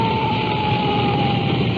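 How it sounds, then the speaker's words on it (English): A police car siren blares loud and close as the patrol car speeds toward an intersection on an emergency call, holding a piercing, steady high wail throughout with no voices. "As we approach each intersection, that siren hits such a high peak it's almost impossible to talk."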